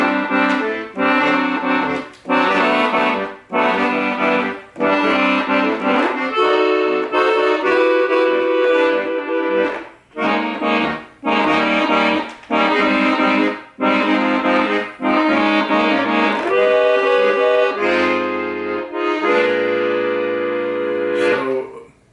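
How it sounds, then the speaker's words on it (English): An accordion plays a lively melody full of rapid triplet figures, loud and steady, with brief pauses between phrases and no voices. "a lot of accordion triplets"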